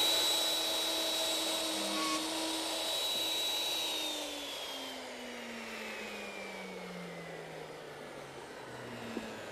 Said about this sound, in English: We'll plug it in and start the router.